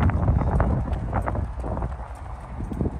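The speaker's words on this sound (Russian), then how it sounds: "На улице ветрища. Наверное, в микрофоне это все будет слышно." Strong outdoor wind buffeting the microphone, a loud continuous low rumble with gusting swells and faint rustling throughout.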